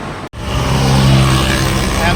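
A car passes close by on the Kandy road in Sri Lanka, a loud, broad engine and tyre roar that rises and holds after a brief dropout.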